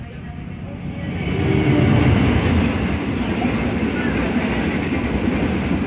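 Passenger train of KA Walahar standing at a station while waiting to cross another train, a low rumbling idle hum that swells and then holds steady, with passengers talking in the background.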